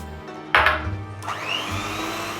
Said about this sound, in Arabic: دلوقتي فصلنا الصفار عن البياض وهنعمل بياض مارينج. هنضربه.